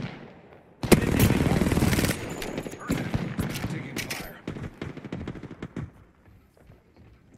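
Rapid bursts of gunfire from Champions erupt suddenly and loudly, a sustained fusillade of close shots that thins into scattered reports, with a voice talking over parts of it.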